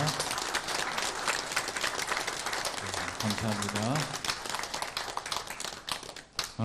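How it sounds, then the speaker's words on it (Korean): A congregation at a Korean Sunday worship service breaks into sustained, lively applause that rises and sputters unevenly toward the end, while a voice speaks briefly over the clapping. "우리 감사의 마음을 담아 축복의 마음을 담아 우리 박수로 한번 격려하시겠습니다"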